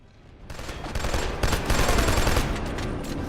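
Heavy video-game gunfire with explosions builds into a loud, dense, continuous fusillade of rapid shots and booms that carries on without a break.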